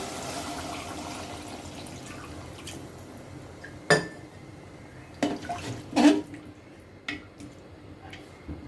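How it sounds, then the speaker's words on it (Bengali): Water poured into a simmering desi chicken curry, a few short splashy pours and gurgles over a quiet kitchen background. "এখন আমরা পরিমাণ মতো পানি দিয়ে ঝোল দিয়ে দিব।"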